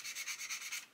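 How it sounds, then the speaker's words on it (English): Hand sanding a panel on a 1/35 scale Ju87 G Stuka plastic model kit, blending out a step, heard as quick, faint, rhythmic rubbing strokes in a steady back-and-forth pattern. "I'm going to do a bit more sanding on that just to blend it out a bit"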